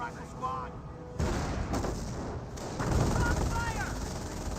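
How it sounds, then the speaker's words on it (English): Mortar shells slam into an anti-tank gun during a Company of Heroes match, a heavy explosive burst and rumbling impacts set against ongoing battlefield gunfire, with a commentator's voice running over the noise. "Mortars are hitting the AT gun now."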